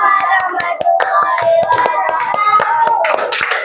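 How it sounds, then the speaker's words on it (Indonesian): Classroom applause from a group of children, a quick burst of hand claps with brisk, uneven rhythm, close and fairly loud, with young voices chattering through it. "Beri tepuk tangan"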